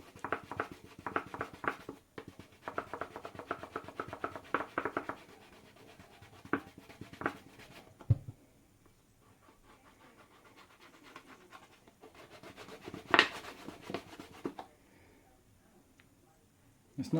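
Surgical spirit being rubbed onto a glass jar label, giving rapid rhythmic scrubbing strokes in two bursts separated by a quieter pause, close and moderately soft.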